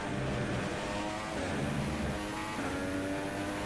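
An F1 car engine accelerates down the straight in F1 2016, a continuous high-pitched rising engine note with gear-change steps, loud and steady with no talk.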